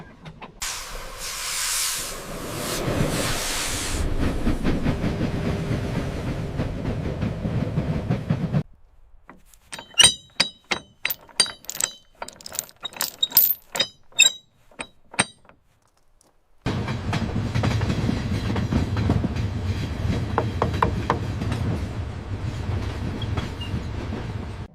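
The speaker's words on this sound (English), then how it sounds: "The old locomotive handled the curve perfectly." An old restored steam locomotive runs on rails: a hissing, rumbling run, then a quieter stretch of sharp metallic clanks and clicks, then the loud rolling rumble returning.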